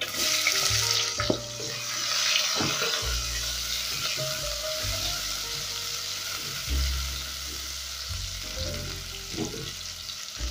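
Onions dropped into hot cooking oil in a pan, giving a steady close sizzle and crackle throughout with a few clinks and scrapes of a utensil, no talking.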